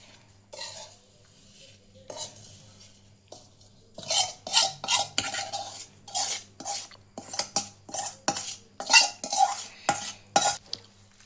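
Spoon scraping and clinking against a pot as raw mango pickle is mixed, a quiet start building into a run of repeated, rhythmic metallic strokes, close and alone with no talk.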